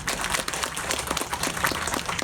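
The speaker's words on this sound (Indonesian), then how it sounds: "Mari kita berikan aplaus dulu ini." An audience at a televised regional government news event in West Papua applauds, giving a steady, dense patter of clapping that holds evenly for a couple of seconds without pause.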